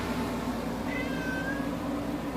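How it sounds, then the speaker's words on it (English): An indoor cat gives a single faint meow during a rainstorm, the cry set against a steady background of pouring rain. "you can ignore my cat meowing because they don't like thunder"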